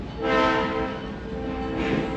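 A New Hope Railroad passenger train rolls along with a harmonic horn blast swelling early and sounding again near the end, over a steady rumble of the moving cars.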